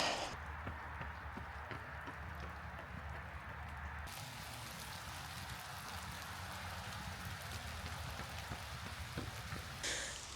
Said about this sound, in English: The rain is fairly letting it down now